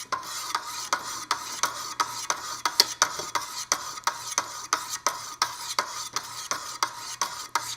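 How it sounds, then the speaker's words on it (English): A Wicked Edge knife sharpener works a blade on a 600 grit stone, producing evenly spaced rasping strokes, about two per second, close and moderately loud with no talking. "And now we're going to go into the 600 grit."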